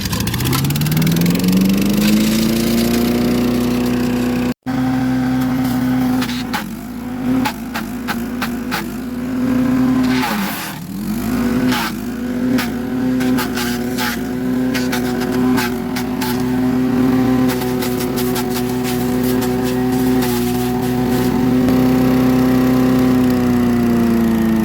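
A Country Pro woodchipper's small engine idles steadily and loudly up close for the whole stretch, a droning hum that rises briefly at the start and dips once midway.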